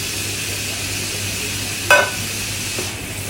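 Onions fry in oil in a pan with a steady sizzle and constant hiss, broken once by a sharp metallic clink and a softer one after.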